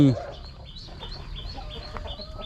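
Backyard chickens, including black chickens, cluck softly in a series of short, repeated calls at moderate distance, with a brief louder sound at the very start.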